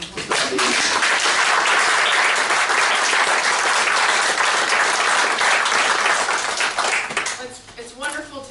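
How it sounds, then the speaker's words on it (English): Audience at a public meeting in Birmingham breaking into loud, sustained applause, dense clapping filling the room for about seven seconds before thinning out as a voice begins speaking. "can you give her a really warm round of applause"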